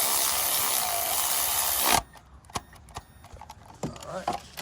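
A power tool whirs loudly for about two seconds while tightening a bolt on a 2017 Hyundai Elantra's VVT solenoids, then cuts off, followed by scattered clanks and handling noises.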